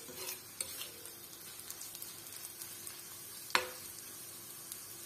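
Chili powder being stirred in a pan over a low flame, a soft steady sizzle and faint scraping with light spoon clinks and one sharper knock against the pan.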